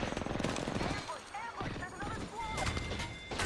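Rapid bursts of automatic gunfire fill a shooter video game match, with dense overlapping shots and impacts running throughout while players talk over the action.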